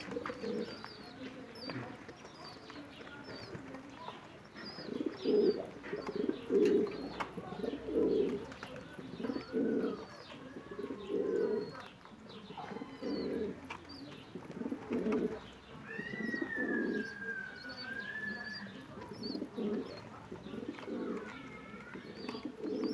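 Pigeons coo in a loft where chicks have just hatched, repeated soft throaty coos in rhythmic bursts close by, with occasional faint chirps and a brief whistle-like call.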